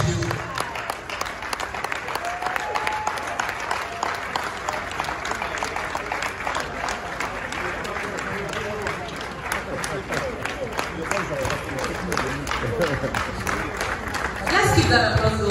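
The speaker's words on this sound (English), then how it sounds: "Let's give that applause, Louis" Steady, dense applause from an awards-ceremony crowd honouring a veteran actor's lifetime achievement award. It runs unbroken throughout with a voice talking over it and swells slightly near the end.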